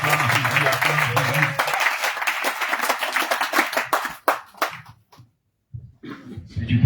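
A church congregation claps and applauds loudly and continuously, with a voice calling out over it, before the clapping breaks into a few scattered claps and then silence.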